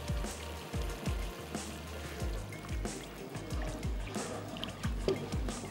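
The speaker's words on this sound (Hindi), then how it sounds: "चलें अब मैं इसमें ऐड कर देती हूँ पानी, इतना पानी जितना कि आपको ग्रेवी के लिए चाहिए।" Water poured into a pot of Kashmiri pulao gravy, a steady trickling stream over sizzling and low kitchen clatter, with occasional soft knocks.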